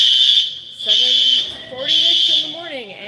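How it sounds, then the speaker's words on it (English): A hotel fire alarm blares in loud, pulsing high-pitched bursts, broken by short pauses, while a voice talks underneath. "the fire alarm is going off again"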